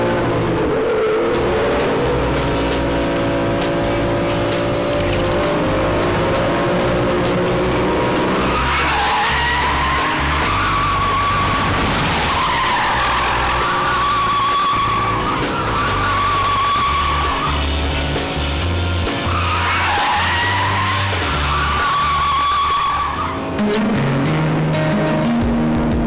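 A BMW driven hard with its tires skidding and squealing, loud and sustained, the engine roaring and revving throughout with waves of screeching as the car slides.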